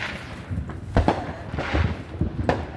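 Fireworks going off outdoors: a run of several muffled bangs and pops over a rumbling background, moderately loud, with no talk.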